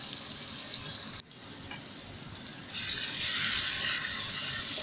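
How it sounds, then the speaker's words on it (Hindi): Whole garam masala spices go into a pot of softened onions frying in oil, producing a steady hiss and sizzle that briefly dips, then swells louder as the spices hit the hot fat. "अब हम तमाम साबुत गरम मसाले डाल देंगे इसमें"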